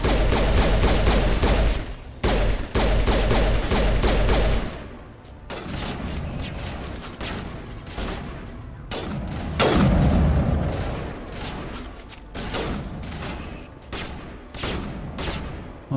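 Video game gunfire from a Mass Effect firefight: loud, dense bursts of shots and heavy booms crackle in rapid volleys, dropping briefly between flurries and then resuming, with no talk over it.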